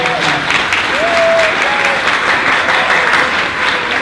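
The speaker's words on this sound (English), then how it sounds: "So let's give a really big round of applause to all of our board members." An audience at the Ms. Wheelchair America 2019 pageant speech night gives sustained, loud applause for the board members, a thick continuous clatter of clapping with faint voices mixed in.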